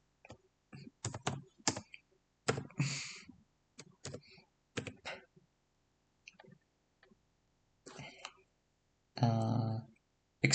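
Keyboard typing during 3D chip-design modelling work, heard as scattered bursts of clicky keystrokes and short clusters separated by pauses, fairly close and moderately loud, with a louder burst near the end.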